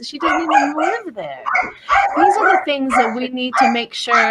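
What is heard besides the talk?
dog barking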